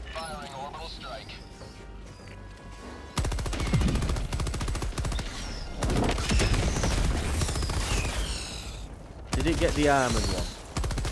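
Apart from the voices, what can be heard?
gunfire and orbital strike in video game Helldivers 2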